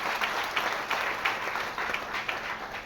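Audience applause at a camp event in Puri, a dense, steady clapping from a crowd sustained throughout, fairly loud and close, with no talk over it.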